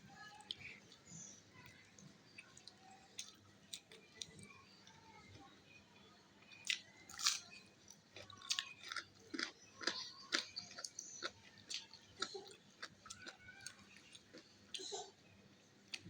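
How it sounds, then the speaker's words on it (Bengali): Raw chicken mixed by hand with spice paste makes soft, wet squishing and sticky slapping sounds, close but faint, in irregular bursts that grow busier midway. "চিকেন নিচ্ছি। এখন মেখে নিই পেস্টটা দিয়ে।"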